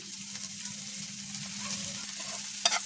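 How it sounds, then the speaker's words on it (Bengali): Onion, chili and garlic frying in a small amount of oil for taro-leaf fritters, a steady close sizzle with light stirring scrapes throughout and a brief louder clatter near the end. "এখন এটাকে আমরা ভালো করে ভেজে নেব, পেঁয়াজ, মরিচ আর রসুনটা"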